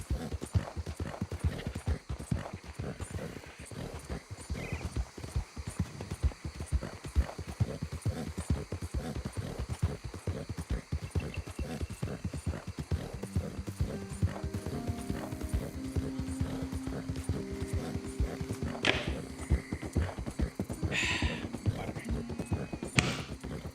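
Horse hooves clip-clop in a fast, steady rhythm through Red Dead Redemption 2, close and continuous, with a few whinnies near the end and occasional talking over the gallop.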